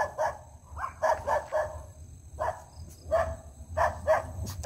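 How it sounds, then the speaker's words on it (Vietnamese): A tied-up dog barks fiercely, several sharp barks in quick clusters separated by short pauses, fairly close and loud over a low background rumble. "Đằng kia có một chú chó bị cọt lại nên nó sủa dữ luôn."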